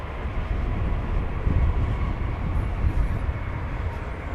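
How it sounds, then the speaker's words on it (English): An American Airlines 737-800 arriving at DFW from San Francisco produces a steady, moderately loud broadband jet rumble that holds even throughout, with no talk over it. "here comes flight 2904 from San Francisco, American Airlines"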